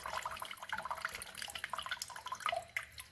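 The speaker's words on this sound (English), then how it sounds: "So now you can see the water dripping down." Dirty water dripping from a Honda Civic radiator during a flush, a quick run of irregular close drips and splashes patters without a break, with no talk.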